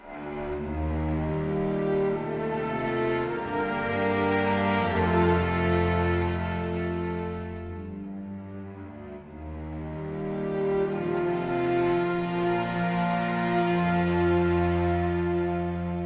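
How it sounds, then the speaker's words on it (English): Soft, airy Flautando Strings Classic sample library strings with cello-recorded parts hold sustained chords in the higher register for a neo-classical track, swelling gently, easing briefly around the middle, then rising again, with no voices. "the Flautando strings just sound like this"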